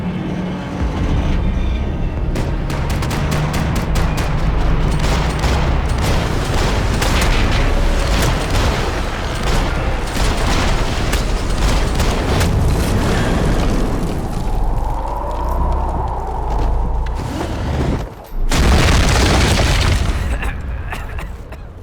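Gunfire and explosions in the Max Payne 3 video game, with rapid shots and heavy booms running loud and continuous throughout, a brief drop near the end and then a fresh blast.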